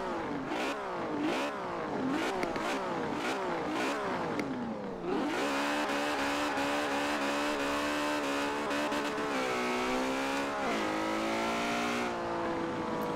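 A Ferrari 599 engine in Forza Horizon 4 revs in quick repeated bursts, then holds a long, loud, rising drone with tire squeal, close and continuous, with no voices.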